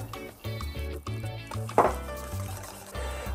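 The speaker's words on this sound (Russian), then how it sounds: "Добавлю-ка я еще немножко воды" Water pours into a bowl of Caesar salad dressing with grated parmesan, a bubbling, liquid gurgle, close by, over a low background hum.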